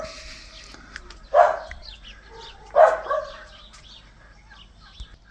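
Dogs bark from near a balcony at a village holiday home on Katelios, two loud close bursts about a second and a half apart, with quieter yips and a distant bird between them.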